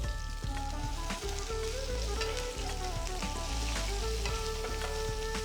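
Curry leaves, green chillies, hing and popping mustard seeds sizzle steadily in hot oil, a loud continuous fry with crackles and faint tonal background music running throughout.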